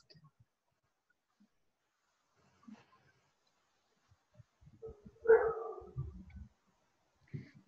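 A single short dog bark sounds in an otherwise quiet room during an online English conversation class, followed by faint muffled noises and a brief whimpering yip.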